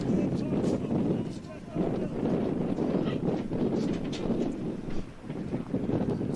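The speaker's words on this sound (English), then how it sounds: "So a bit windy out here" Steady wind buffets the microphone at an outdoor college baseball field during a game, a constant low rumbling roar that fills the whole stretch with only brief dips.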